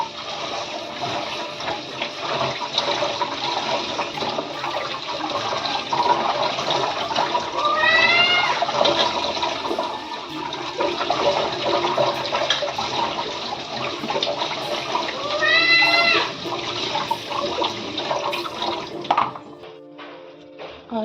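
Saag greens, a pahadi mountain vegetable, are rinsed in clean water with a steady rushing, splashing flow throughout and a couple of brief squeaky sounds partway through.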